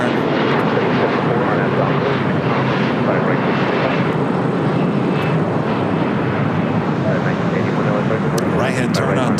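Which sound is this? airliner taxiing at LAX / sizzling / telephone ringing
airliner taxiing at LAX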